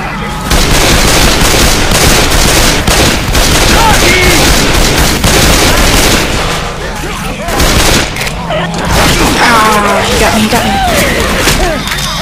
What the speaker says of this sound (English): who threw the pipe bomb?